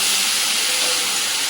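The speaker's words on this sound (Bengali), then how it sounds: "পেঁয়াজের সাথে চিচিঙ্গেটা এবার একটু ভালো করে ভাজা ভাজা করব।" Snake gourd fries with onions in a pan, giving a loud, even, continuous sizzle with no voices over it.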